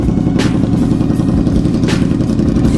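A motorcycle engine runs loud and close with a throbbing, uneven mechanical rumble and faint clatter, brief rising rev bursts standing out over the steady drone.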